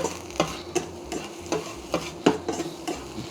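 Chopped onions glazed with a teaspoon of Worcestershire sauce sizzle softly in a pan, with a faint steady crackle under regular scraping strokes of a spoon or spatula stirring them, repeating roughly every half second.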